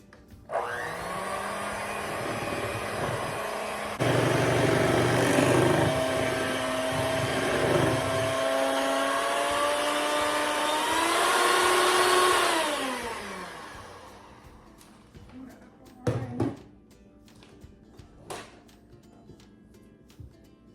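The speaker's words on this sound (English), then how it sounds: "Blender, hand blender." A hand blender whirs loudly and steadily for about fourteen seconds, its pitch shifting as it works, then cuts off, followed by a few clinks and knocks.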